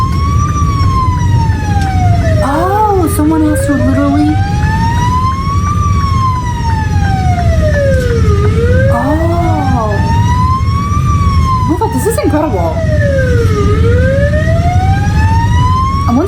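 A Norwegian fire engine and ambulance wail with sweeping sirens that rise and fall in long repeated cycles over steady heavy traffic rumble, loud and close, while someone speaks briefly over it.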